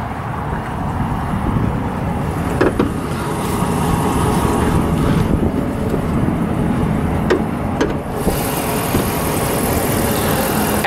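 A 2010 Jeep Commander Limited's 5.7-liter Hemi V8 idles steadily with the hood open, a constant low rumble running at an even level throughout, with a few faint clicks and no talking.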